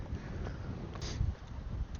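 Strong coastal wind at Steinvika, a dense continuous roar of gusts buffeting a small microphone, loud and close throughout.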